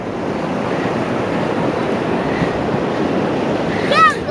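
Steady surf and gusting wind on a rocky beach at Roads End in Lincoln City, a constant loud wash of breaking waves with wind buffeting the microphone throughout and a brief high cry near the end.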